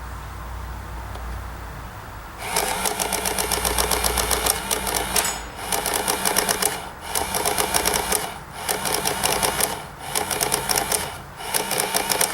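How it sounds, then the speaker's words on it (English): A chronograph printer prints shot results in rapid mechanical chattering bursts after a quiet start, each run of printing lasting about a second and separated by brief pauses, close and steady. "plug in the printer and get the results."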